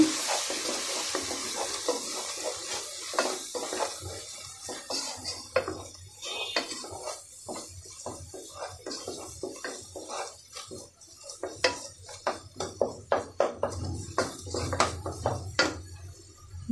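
Egg being stirred together with garlic paste in a hot pan, a quick run of metal spatula scrapes and clinks over a faint sizzle that grows busier and more rhythmic toward the end.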